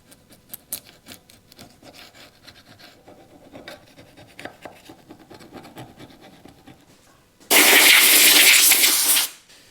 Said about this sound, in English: we'll go gently at it first with a clean, blunt scraper and take away any more loose stuff that's hanging around